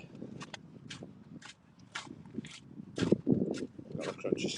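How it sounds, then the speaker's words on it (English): Footsteps crunch on snow during a walk around Trentham Gardens, giving a series of sharp, close crunches in an irregular rhythm that grow louder toward the end, with a person speaking over them. "Got a crunchy snow for a second anyway. Crunchy, crunchy, crunch."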